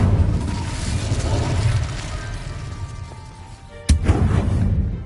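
Incendio fire spell in Hogwarts Legacy, a rumbling roaring blast that builds then fades, followed by a sharp sudden crack and a renewed burst of noise near the end.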